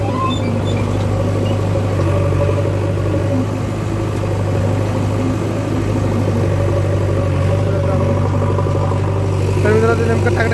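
A tractor engine runs nearby with a loud, steady, low rumble during soil hauling, droning without pause and faintly revving near the end.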